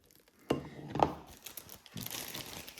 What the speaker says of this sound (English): I simply use a zip closed bag, and we'll just cut off the end